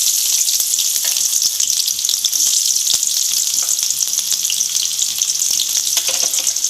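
Small shallots dropped into hot oil with fennel seeds, a loud, crackling, hissing sizzle that stays steady and close throughout, with no speech.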